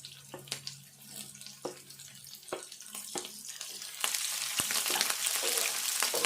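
Green chillies frying in hot oil in a pan for a potato and brinjal curry, a soft crackling sizzle broken by scattered clinks that swells into a louder, steady hiss midway.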